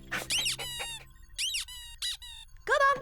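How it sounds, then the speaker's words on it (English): A squeaky ball toy squeaks repeatedly in a cartoon scene, a series of loud, high, pitch-sliding squeaks in quick bursts with short gaps, ending on a stronger squeak. "come and fetch a squeaky ball"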